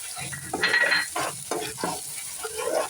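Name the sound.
stirring tomato-onion puree in pan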